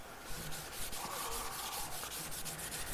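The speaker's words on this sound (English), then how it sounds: "I'm just going to use cheesecloth. Just go in here and polish it now." Waxed Venetian plaster wall polished with cheesecloth, a soft steady rubbing and brushing sound in quick continuous strokes, fairly quiet and close.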